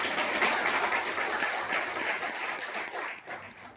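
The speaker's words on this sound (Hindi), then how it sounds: "ताली बजा लीजिए" A crowd at a business plan presentation claps in a moderate, continuous patter that gradually thins and fades toward the end, with no talking over it.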